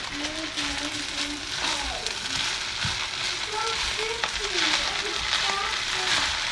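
Bacon fried rice mixed with sauces sizzles steadily in a hot pan while it is stirred, with scraping and clumps breaking apart under intermittent talk.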